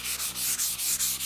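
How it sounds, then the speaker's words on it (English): Steady close-up abrasive rubbing of sandpaper on the surface of an Ikea desk during scratch repair, a continuous gritty hiss with brief rhythmic dips as the strokes change direction. "the slight sanding doesn't create that much dust"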